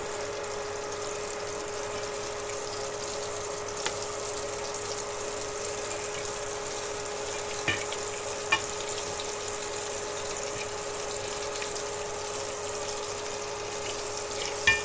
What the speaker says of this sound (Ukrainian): Яйце, панірувальна суміш, трішечки обтрусили і на пательню.